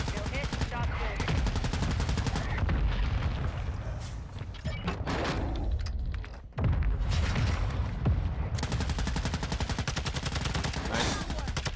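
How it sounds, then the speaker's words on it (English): Loud, dense automatic gunfire and booms from the Warzone 2 video game, with rapid bursts, a brief pause midway, and game voices heard under the shooting. "I can't shoot with this gun"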